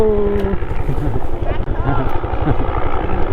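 A modified electric bicycle hub motor driven by an 800W controller emits a loud, continuous helicopter-like whine that rises in pitch as it spins up, recorded close with steady engine-like pulsing throughout.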